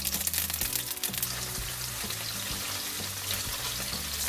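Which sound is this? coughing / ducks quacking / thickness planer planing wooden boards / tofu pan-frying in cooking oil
tofu pan-frying in cooking oil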